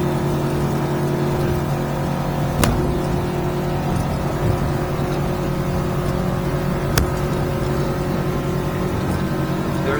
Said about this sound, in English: Now I'm going to trim the motor out now. Now I'm picking up speed.